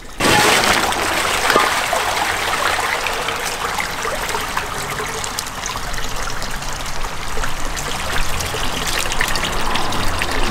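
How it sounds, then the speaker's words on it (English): Water drains steadily out of a small backyard goldfish pond, a loud continuous trickling and splashing stream that runs unbroken throughout. "we're going to take the water out of the pond"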